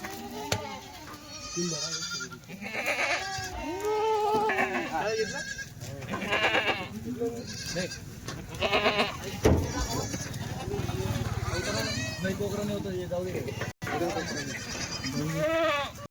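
Several goats bleat repeatedly nearby, overlapping cries rising and falling over a noisy background, with people talking among them.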